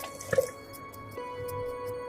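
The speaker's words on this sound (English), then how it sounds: "Let's add some more water to this." Water is added to a pressure cooker holding rajma, giving a short close splash and drip near the start followed by faint trickling and quiet kitchen background.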